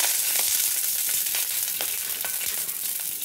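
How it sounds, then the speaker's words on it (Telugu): Green chillies fry in hot oil with a steady loud crackling sizzle, continuous and close, with small pops scattered throughout. "ఆయిల్ హీట్ అయిన తర్వాత ఇందులోకి పచ్చిమిర్చి యాడ్ చేసుకోవాలి"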